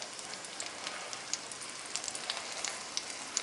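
A homemade Big Mac beef patty sizzles on a George Foreman–style grill, a faint, steady crackling hiss dotted with small sharp pops, with no voices over it.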